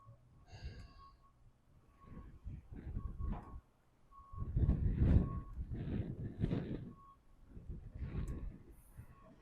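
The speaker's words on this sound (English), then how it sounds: "Another cement lorry" A cement lorry arrives at a stadium construction site, its reversing alarm beeping repeatedly at a steady pace over a rumbling engine and gusts of wind noise.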